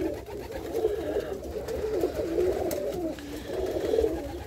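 A ringed homing pigeon coos steadily in low, rolling phrases, close by and unaccompanied, with a faint background hiss.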